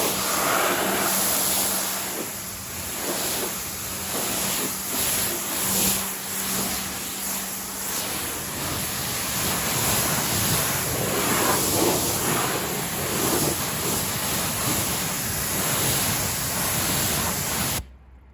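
Close, continuous roar of a pressure washer jetting water over a car, a dense hissing spray with slight surges that runs nearly the whole time before stopping suddenly at the end.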